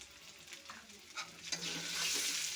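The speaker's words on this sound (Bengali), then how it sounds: "একটু ভাজা ভাজা করে নিচ্ছি।" Boiled potato and onion fry in a pan with salt, a spoon stirring and scraping through them over a steady close sizzle that builds louder toward the end.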